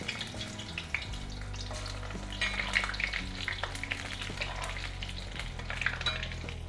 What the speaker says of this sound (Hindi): अब इसको फ्राई कर दूंगी 180 डिग्री टेम्परेचर में